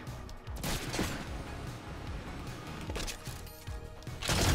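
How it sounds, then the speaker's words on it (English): Gunfire in a Fortnite squads match, bursts of shots and impacts crackling through a busy game mix at moderate distance, with a louder flurry near the end. "Someone's shooting in between us,"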